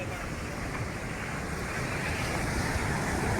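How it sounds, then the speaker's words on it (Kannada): Rough sea waves crash against the shore at a coastal fishing spot, a loud, continuous roaring surge of surf with wind noise and no pauses. "ಕಡಲ ಅಬ್ಬರ ಜಾಸ್ತಿ ಇದ್ದರಿಂದ ನೋಡಿ ಯಾವ ಥರ ನೀರು"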